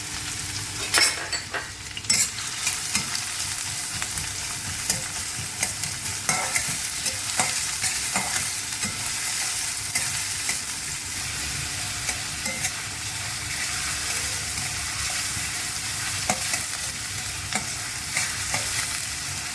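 Onion frying in a pan, a steady sizzle running throughout with repeated stirring scrapes and utensil clinks, close and fairly loud, no voices.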